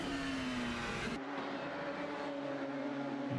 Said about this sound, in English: Listen to the motorcycle engines screaming.